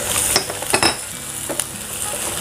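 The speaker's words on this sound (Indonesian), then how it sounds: "Saya tambahkan bawang putih dan jahe yang sudah diparut." Grated garlic and ginger sizzle in hot oil, a steady bright hiss punctuated by a few clinks of a utensil stirring against the pan.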